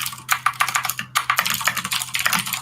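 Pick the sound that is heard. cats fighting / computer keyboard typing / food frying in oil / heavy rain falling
computer keyboard typing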